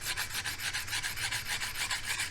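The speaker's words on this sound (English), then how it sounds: "as I continue to grind on it, it'll take off more of the marker" A planer blade from a Rockwell/Delta 22-650 13-inch thickness planer is sharpened by hand grinding, producing a steady, rhythmic rasping scrape repeating in quick even strokes, close and fairly quiet with no voices.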